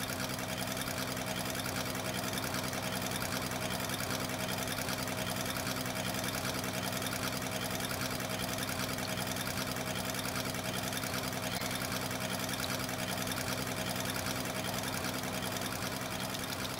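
An International 856 tractor engine running in a farm field, a steady, even mechanical drone with a fast rhythmic chatter that holds unchanged throughout, with no talk over it.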